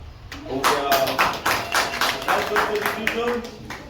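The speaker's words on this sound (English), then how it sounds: "And I think you should clap for us." An audience at a youth council meeting claps in a burst of brisk, uneven hand claps, loud and close, with a voice speaking over the applause.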